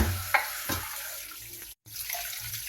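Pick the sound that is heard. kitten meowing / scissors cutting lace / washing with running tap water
washing with running tap water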